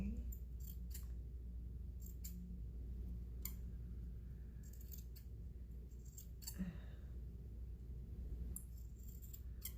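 Scissors snip at a baker's twine pom pom in scattered, sharp little cuts, some in quick pairs and others spaced apart, heard close but quietly over a low steady background hum.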